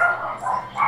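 A dog in the Minecraft video game barks in a quick burst of short, bright yips, close and fairly loud, with no talk over it.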